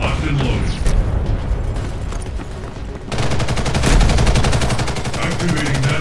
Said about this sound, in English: Arm launcher locked and loaded.